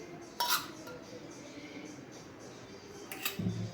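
A spoon mixes flour in a bowl, two sharp metallic clinks far apart with quiet scraping between them.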